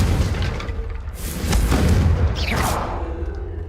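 Confringo blasting spell explosions in Hogwarts Legacy: deep booming blasts with a rumbling low end, followed by a whooshing, sweeping spell effect, loud and close amid combat.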